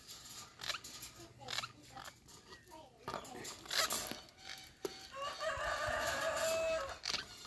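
Pet parakeets squawk and chatter excitedly while corn dough is shaped nearby, their shrill calls repeating in bursts and growing busier toward the end, with someone talking over them.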